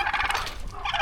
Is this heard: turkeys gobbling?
yes